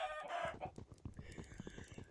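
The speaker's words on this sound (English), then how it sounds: "I'm going to go and lock myself in here with this chicken." A chicken in the Minecraft-based game Agrarian Skies, a short squawk followed by a quick run of soft rhythmic clucks, close and fairly quiet.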